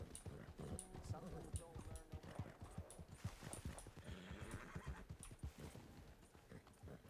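A horse in Red Dead Redemption 2 whinnies repeatedly and clip-clops along, with someone talking over the hooves and game ambience throughout.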